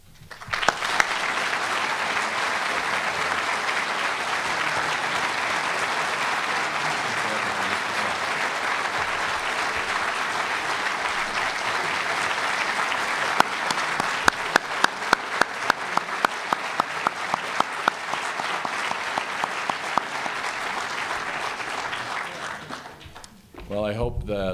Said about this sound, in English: Length and sound of that applause was not missed on anybody.